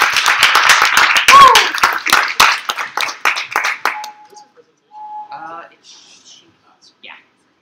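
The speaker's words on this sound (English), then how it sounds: "Round of applause." Hands clap loudly and rapidly in a short round of applause from an audience at a civic hacknight, with a whistle cutting through, then the clapping dies away into a few scattered voices.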